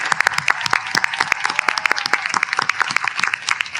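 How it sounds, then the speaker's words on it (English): Medical college graduates at a convocation ceremony in Karachi stand and applaud their families, a close, crisp run of many distinct hand claps in a quick uneven rhythm, loud and sustained with no talking over it. "let's give our families a round of applause that they will hear even without all this technology"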